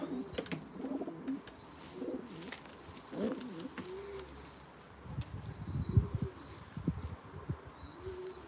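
Black Drap De Lat pigeons coo in soft, low, repeated rolling calls nearby, with a few faint chirps and light rustling between them.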